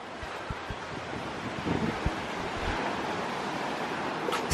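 Ocean surf washes steadily onto a Florida beach at a resort, a continuous loud roar of breaking waves with some wind buffeting the microphone.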